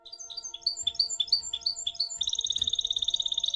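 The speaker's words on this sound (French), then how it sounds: "il entendit chanter sur la colline comme un chant de différents beaux oiseaux" Several birds sing on Tepeyac hill at sunrise, with quick repeated high chirps and trills that give way to a rapid, even twittering series. Steady low tones sit underneath, and no one speaks.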